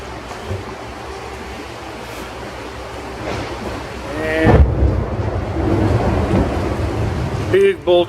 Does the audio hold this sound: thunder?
yes